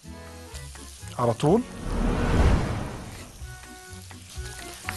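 Onions hitting melted butter in a pot for soup swell into a loud, steady sizzle after a few brief sounds, with someone speaking briefly near the start.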